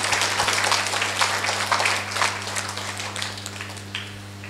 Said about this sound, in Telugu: గట్టిగా చప్పట్లు కొడదాం శంకర్ మ్యాట్రిక్స్కి.